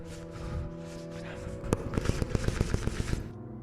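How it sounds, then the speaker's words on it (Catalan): Rapid clattering of teeth chattering from cold, a radio drama sound effect: a fast, sharp series of rattling clicks near and fairly loud, starting after a low murmuring bed and running for about two seconds before stopping. "I vaig escoltar com colpejaven les dents."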